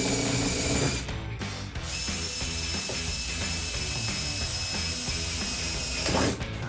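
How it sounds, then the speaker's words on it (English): A power drill bores through the sheet-metal deck lid of a 2010-2014 Ford Mustang during a rear spoiler install, its motor whirring steadily with brief pauses and bursts. "make sure that this drill bit makes it all the way through the second layer of metal here"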